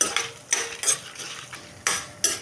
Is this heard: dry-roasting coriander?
yes